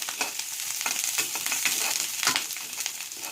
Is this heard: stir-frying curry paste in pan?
yes